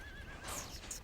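A horse at a horse rescue ranch gives a quiet, somewhat distant whinny, with a light hoof clip-clop and soft outdoor background.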